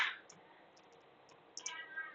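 A command typed on a computer keyboard while working in MySQL or MariaDB, a few quiet, sparse key clicks followed by a short, quicker burst of taps, heard faintly in a calm room.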